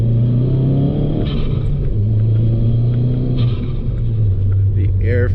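A Ford Focus ST with Verus Engineering hood louvers revs its engine, a loud steady rumble with rising surges, with someone talking over it.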